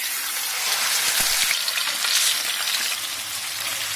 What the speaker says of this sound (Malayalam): ഇതിനെ എണ്ണയിലിട്ട് ജസ്റ്റ് ഒന്ന് ഫ്രൈ ചെയ്തെടുക്കാം